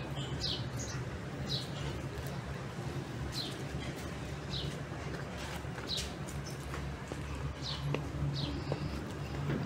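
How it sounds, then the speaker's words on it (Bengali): Birds in Tadoba tiger reserve, Andhari, call in brief high chirps scattered across a steady, hissing outdoor ambience, fairly faint and distant, with no talking. "মিষ্টি মিষ্টি পাখিগুলোকে দেখতে দেখতে আর তাদের মিষ্টি মিষ্টি ডাক শুনতে শুনতে"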